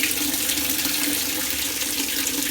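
A top-load Roper washing machine, fitted with a newly replaced water inlet valve, fills with water in a steady, unbroken rush that is close and loud, with no talking.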